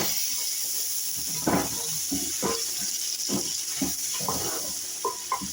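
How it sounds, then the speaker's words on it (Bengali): Spices frying in a pan, a steady hiss with intermittent crackles and pops spread through the clip, moderately close with no talking. "মশলাটা ভাজি করে নেবেন"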